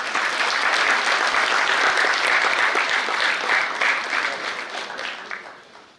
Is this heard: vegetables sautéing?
no